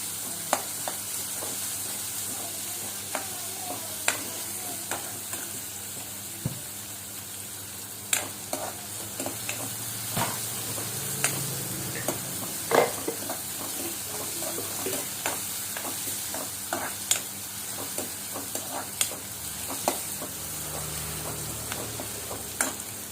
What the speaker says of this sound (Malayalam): ഉള്ളി നന്നായി വഴഞ്ഞ് കഴിയുമ്പോൾ ഉള്ളി നന്നായിട്ട് മൊരിയട്ടെ